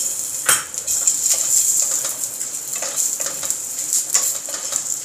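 Dry red chillies and garlic sizzling in a little oil in a pan, a steady hiss of frying punctuated by light metallic clinks of a spatula stirring, close and without talk.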